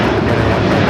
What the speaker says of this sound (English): That is Japan Airlines Flight 15 taking off to Tokyo, Haneda on the A350 1000.